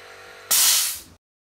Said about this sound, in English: I really did not like the escape of air when the Clark switched off.